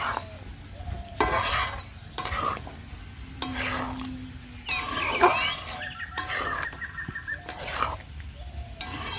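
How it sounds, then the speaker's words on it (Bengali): Cashew and poppy seed paste being stirred into chicken rezala in a pan: a series of close scraping stirring strokes at a regular pace over a low, continuous sizzle. "এবার কাজু পোস্ত বাটা দিয়ে দিচ্ছি"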